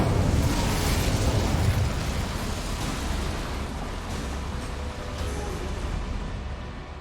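Incendio fire spell lighting boilers in Hogwarts Legacy: a loud, continuous roaring whoosh of flame with dense crackling, sustained throughout and slowly easing toward the end.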